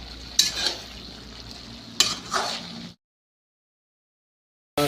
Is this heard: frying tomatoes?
yes